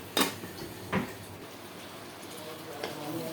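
A lid or pot clinks loudly a few times on a cooking pot of lentils with bitter gourd, sharp close metallic knocks over a quiet simmer.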